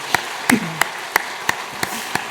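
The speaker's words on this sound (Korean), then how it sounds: "크게 축하의 박수 부탁합니다." During a Christmas thanksgiving service, after an infant baptism, sharp claps land in a slow, evenly spaced rhythm, about eight in all, moderately loud against a quiet room with no talk.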